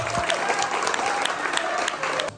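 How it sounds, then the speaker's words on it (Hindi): Loud, dense applause from a crowd on a TV serial set, steady and sustained for about two seconds before cutting off abruptly, with a faint voice beneath the clapping. "तो आप सब लोगों के लिए एक जोरदार तालियां बजा दो"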